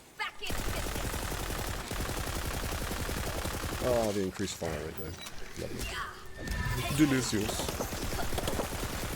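Rapid automatic SMG fire in a video game, dense continuous bursts at a high rate running nearly the whole time, with someone talking briefly over it partway through.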